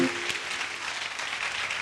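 A church congregation applauding to acclaim the Lord during a prayer gathering, dense steady clapping from many hands, continuous and fairly loud throughout.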